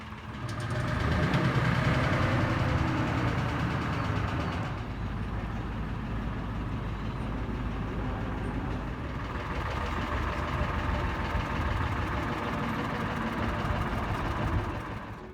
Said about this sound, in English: luckily we had a tugboat to help us with some of the moves